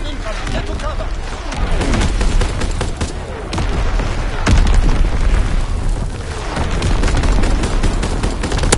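Artillery bombs explode in the video game Yesca, with heavy booms and crackling blasts layered over constant battle noise, loud and sustained, with voices shouting in the mix.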